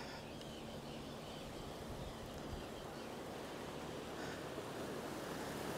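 Ocean surf at a beach in Ponta Delgada in the Azores on a summer day, a steady broad wash of waves heard faintly from a distance, with light wind noise and no voices.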